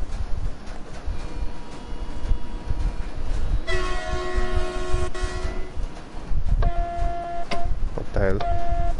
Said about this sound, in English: Release the brakes and apply a small amount of power to get moving.